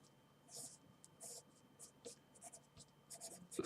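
A pen drawing a chemical structure during a chemistry lesson: faint, intermittent scratchy strokes and taps in short bursts, close and quiet against a low room hum.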